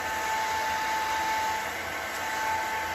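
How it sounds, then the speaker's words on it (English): A blow dryer whirs steadily and evenly throughout, a constant airy hum with no pauses. "I'm just gonna be taking my handy dandy blow dryer."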